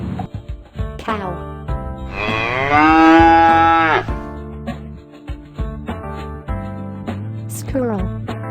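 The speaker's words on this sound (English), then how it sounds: "Cow." A cow gives one long, loud moo lasting about two seconds, set between stretches of gentle background music.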